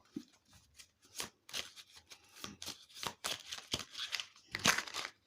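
Angel oracle cards shuffled by hand in a series of quick, crisp riffling bursts with short pauses between, close and fairly quiet.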